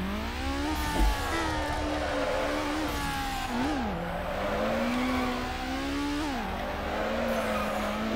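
A car drifts in the Need for Speed video game, its engine holding a high, wavering whine with pitch dips at gear shifts, while the tires squeal loud and constant through the slides.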